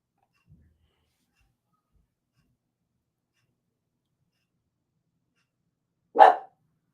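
A single loud bark from Ray, a pet dog, bursts out near the end after long near-silence, with only a faint earlier thump.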